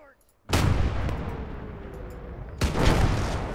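Machine gun fire in the WWII strategy game Gates of Hell, Airborne DLC: a sudden loud, dense roar of continuous gunfire that swells again near the end, heavy and close, with no voices.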